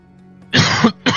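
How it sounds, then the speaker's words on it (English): A person coughs in the middle of a tabletop role-playing game session, giving one loud, harsh burst followed by a brief second cough, close to the mic with no talk over it. "Cough."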